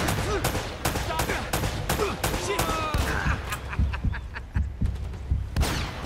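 Rapid gunfire in the video game Uncharted: Drake's Fortune: dense bursts of loud shots crackle almost without pause across the whole stretch, layered over a steady background din.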